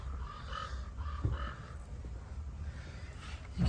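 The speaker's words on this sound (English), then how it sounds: "You can hear my pet crows in the background going crazy." Crows caw repeatedly in the background, a series of harsh, rhythmic calls at moderate distance in a garage setting where a valve cover gasket is being replaced on a 2002 Mitsubishi Eclipse, with one brief spoken word.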